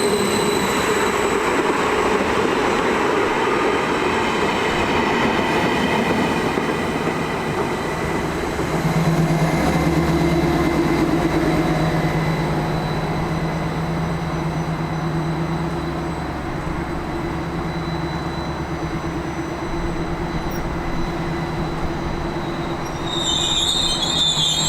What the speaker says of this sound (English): This particular model is a Class 73 intercity train.